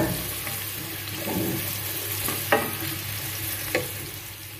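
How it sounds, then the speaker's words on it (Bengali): Chopped onion fries in oil in a wok, a steady soft sizzle with occasional stirring scrapes and a couple of sharper clinks, heard close and alone. "তো পেঁয়াজটাকে এখন আমি ভেজে নিব।"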